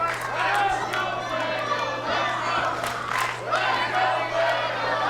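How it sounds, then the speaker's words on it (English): Wrestling arena crowd cheers and shouts for wrestler Fuego del Sol in a dense, continuous roar with rising bursts of yelling, steady throughout under a faint constant hum. "The crowd cheering for Fuego del Sol."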